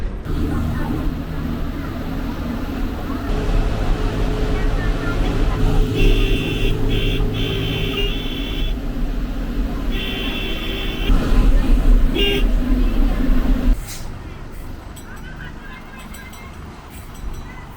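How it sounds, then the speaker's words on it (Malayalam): A KSRTC bus running as a school bus squeezes along a narrow Kerala road, its engine rumbling steadily while the horn sounds in several short bursts, then long blasts. The engine noise drops off near the end, and people talk throughout. "കഷ്ടിച്ച് ഒരു വണ്ടിക്ക് പോകാൻ മാത്രമുള്ള ഇടയിലൂടെയാണ് ഇപ്പോൾ നമ്മൾ നമ്മുടെ രാജേഷേട്ടൻ ബസ് ഓടിച്ചുകൊണ്ടിരിക്കുന്നത്"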